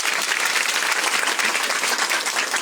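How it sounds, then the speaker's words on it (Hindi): Church congregation clapping steadily and loudly throughout a short burst of applause during a worship service, dense and continuous with no voices standing out. "ताली बजाओ यीशु मसीह के लिए।"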